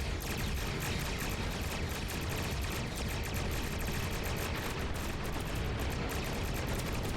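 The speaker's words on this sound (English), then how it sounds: "I really need to use the photon cannons more often" Photon cannons fire in the space combat game Star Trek Online, a dense, continuous barrage of rapid blasts and crackling bursts that fills the whole stretch at a fairly even, moderate level, with no voices.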